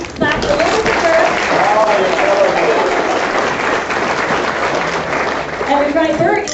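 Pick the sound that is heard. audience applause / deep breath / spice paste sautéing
audience applause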